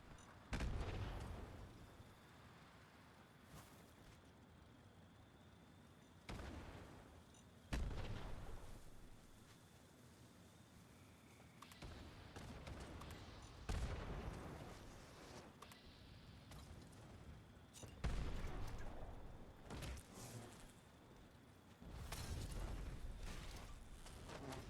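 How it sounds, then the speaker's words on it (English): Grenades burst repeatedly in the video game Fallout 76, with five or six heavy, booming blasts spaced a few seconds apart, each decaying into a rumbling tail over a steady low background. "No, that's the grenades."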